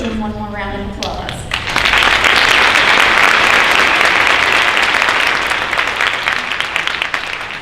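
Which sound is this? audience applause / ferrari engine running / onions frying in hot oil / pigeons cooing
audience applause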